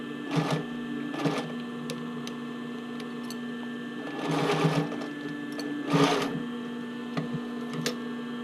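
An industrial sewing machine runs a straight stitch on a sports bra waistband in short bursts, whirring in several separate runs with quiet pauses and light ticks between them, close and clear, with no talking.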